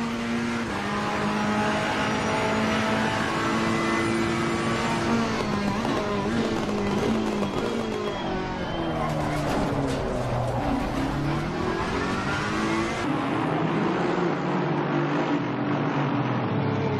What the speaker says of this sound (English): I throw it down a couple of gears, I let it coast, and then I accelerate out of the corner